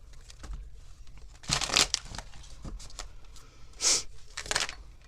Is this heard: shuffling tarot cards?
yes